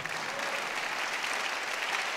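A church congregation claps during a sermon, a steady dense patter of many hands sustained at an even level throughout, with no voices standing out.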